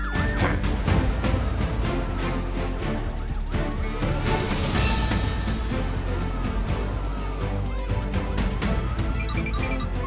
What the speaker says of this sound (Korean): 이제 구급차 힐리가 출동할 시간이에요